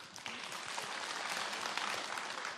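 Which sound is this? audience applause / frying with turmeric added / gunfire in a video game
audience applause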